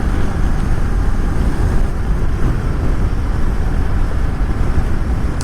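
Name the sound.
car driving through suburban streets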